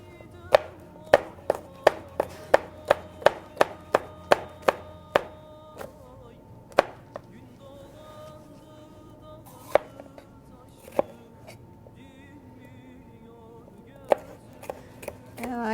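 Knife chopping turkey into thin strips on a cutting board, a fast run of about a dozen sharp, evenly spaced taps that slows to a few scattered cuts, close and crisp.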